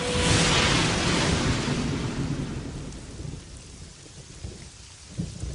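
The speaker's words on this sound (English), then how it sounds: "Thunder shook its bark. Rain weakened its roots." Heavy thunderstorm with a loud thunderclap at the start that rolls away into steady rain on surfaces, with faint distant rumbles later; no voices.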